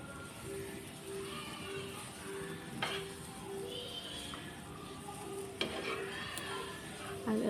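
Curry leaves crackle and sizzle in hot oil over an egg masala for a bachelor-style egg recipe, a steady close frying hiss with brief pops and a spoon clink, under a faint background hum.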